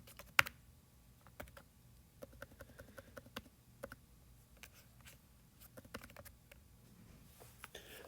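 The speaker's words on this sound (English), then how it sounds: "let's see if I can just start typing" Someone types on a computer keyboard while working in a spreadsheet, producing quiet, irregular bursts of close key clicks with short pauses, and no talking.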